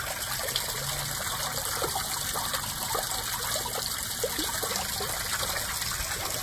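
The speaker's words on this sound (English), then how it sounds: "I've got it almost all the way to the top without overflowing." Water from a storm water sampling container trickles and splashes steadily into an amber glass sampling bottle as it nearly fills, a close, continuous wet pouring with no talk.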